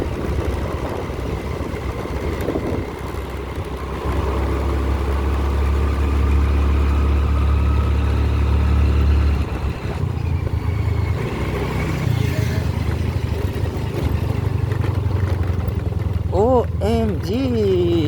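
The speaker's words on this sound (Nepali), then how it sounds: "अफरोड त हिँड्दै हिँड्दैन क्या स्कुटर।" A scooter ridden off-road on a rough, wet road, its engine a steady low drone mixed with wind rumble throughout, with a voice talking over it.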